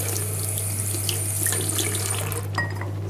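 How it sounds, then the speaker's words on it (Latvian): Water running steadily from a tap while a toothbrush is rinsed, a continuous close splashing rush with a low hum underneath and a brief change in the flow near the end. "noskalot arī zobu birsti"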